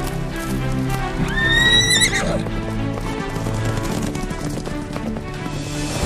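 A cartoon horse in an animated 3D folk tale lets out a loud, rising whinny, and then quick clip-clopping hooves run on against a busy music score.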